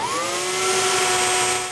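An 8-inch Shop Fox jointer runs steadily on wood, a loud continuous machine whine with a rising motor tone and no talk over it.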